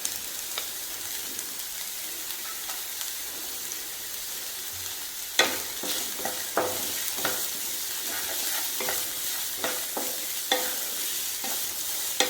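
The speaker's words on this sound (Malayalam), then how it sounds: "സവാള വാടിയിട്ടുണ്ട് നമുക്ക് ക്യാരറ്റ് ഇട്ട് കൊടുക്കാം" Carrots and onions stir-frying in oil for a vegetable thoren, a steady close sizzle with repeated scraping stirs and clacks of a spoon against the pan, no voices.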